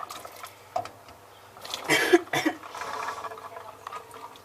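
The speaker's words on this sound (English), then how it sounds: "So we're gonna pop in our chickpeas now." Tinned chickpeas and their liquid are poured from a tin into a lamb tagine, a short wet slosh and gurgle after a few faint knocks, close by, then tapering to a soft trickle.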